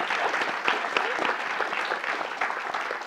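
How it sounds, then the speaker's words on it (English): Audience applauding panellists at the close of an advertising-industry panel discussion, a dense steady round of clapping filling the room throughout. "Hopefully we can clap now."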